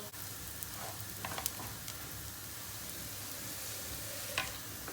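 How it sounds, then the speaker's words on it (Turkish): Soft, continuous crackling and sizzling of bulgur toasting in a pan, with scattered small pops and an occasional stir, fairly quiet and close. "bulgurun içinden çıtır çıtır sesler gelmeye başladığı anda bulgurumuz olmuş demektir"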